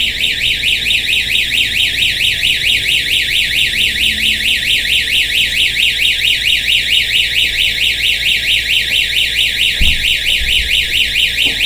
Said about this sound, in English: So you can see that the alarm triggered so that one single door sensor actually did three things.